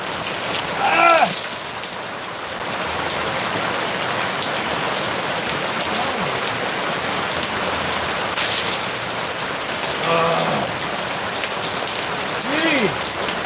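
Steady rain falls outdoors as a broad, continuous hiss of drops striking surfaces, holding at a fairly even level throughout with a few brief louder moments and faint voice-like sounds in the background.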